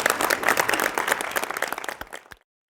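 An audience at a talk by the QuikTrip chief executive claps for about two seconds, a close mix of many hands that thins out to a few final claps and then stops dead into silence.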